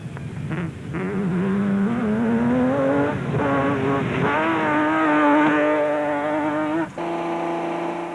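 A rally pickup truck revs its engine loudly and up close at the start of the 2005 Limpopo 400, the engine note climbing steadily and holding a sustained roar with a brief dip near the end.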